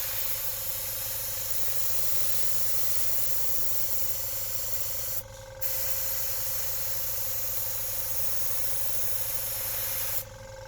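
Airbrush fed by a compressor spraying weathering paint onto model railway track, a steady close hiss running almost continuously with two brief breaks, over a constant low compressor hum.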